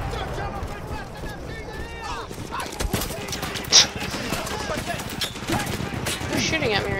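Battlefield 1 campaign gunfire, with bursts of rapid shots and scattered single cracks under continuous battle noise, while a player talks over the fighting.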